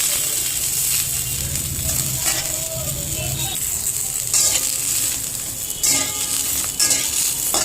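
Cauliflower frying in a little oil, hissing and sizzling steadily and loudly while a utensil stirs it with scraping, clattering strokes, close up.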